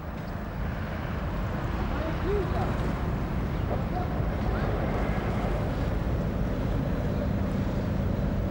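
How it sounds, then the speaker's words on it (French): An old renovated sailing fishing boat, now used for cruising, motors out of port under engine power. A low rumble runs steadily beneath heavy wind buffeting the microphone. "La sortie du port se fait au moteur"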